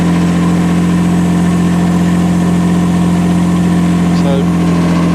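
A UME12 mini excavator engine runs loud and steady as it drives an auger into clay soil, a constant low droning hum with a slight whine, close and continuous throughout.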